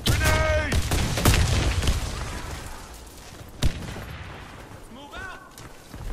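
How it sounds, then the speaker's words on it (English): Game explosions and gunfire in a CS-style shooter: a dense, loud burst of blasts and shots at the start, a sharp single bang mid-clip, then quieter rumbling with radio-style voice callouts and chatter underneath. "Grenade!"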